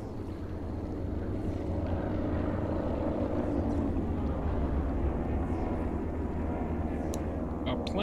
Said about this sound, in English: A plane.